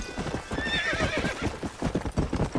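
In the video game Red Dead Redemption, a horse's hooves clip-clop in a quick, steady rhythm while the horse gives a bright whinny partway through, both close and clear.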